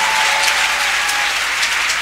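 A church congregation claps and cheers together during a French-language worship service, producing dense, sustained applause that fills the room with no voices standing out.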